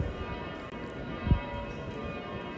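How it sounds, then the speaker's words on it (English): Cathedral bells in Vienna ring out, a faint tonal chiming with a low thud partway through, and no voices over it. "the bells just started."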